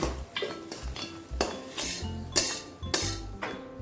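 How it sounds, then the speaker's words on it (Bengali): Mutton being tipped into a pressure cooker, with sharp metallic clanks and scrapes of a utensil against the pot repeating in irregular bursts, close and fairly loud, no talking. "এই মাংসটাকে আমি প্রেশার কুকারের মধ্যে ঢেলে দেব"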